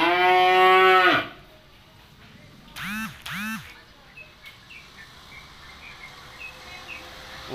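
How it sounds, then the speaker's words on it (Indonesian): A loud, long cow moo opens from a ten-month-old breeding bull calf, followed by two shorter, quieter lowing calls a moment later against faint outdoor background noise. "Dan yang pasti ini sapi panjang untuk ukuran sapi."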